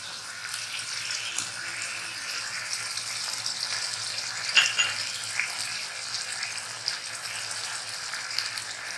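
Chicken chilli fries in a pan while a spoon stirs it. The soft, steady sizzling hiss carries small scraping clicks, with no talking.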